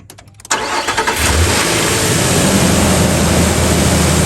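A 2017 Nissan Frontier cranks briefly, then its engine catches with a loud surge and settles into a steady, close idle after a fresh belt, tensioner and idler pulley change.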